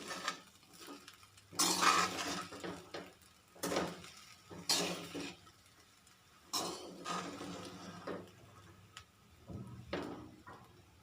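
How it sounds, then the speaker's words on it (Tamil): Egg fried rice with a little ground pepper being stirred in a pan, giving repeated scraping and clinking strokes of a utensil against the metal, fairly close, with quiet gaps between bursts and no talking. "கொஞ்சமாக மிளகுத்தூள் சேர்த்துட்டு நல்லா கலந்து விட்டுடலாம்."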